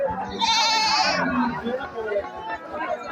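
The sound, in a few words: sheep bleating at livestock market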